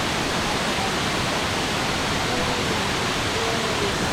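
Cachoeira do Jaja, an easy-access waterfall in Morretes, pours with a constant, loud, close rushing roar and no breaks.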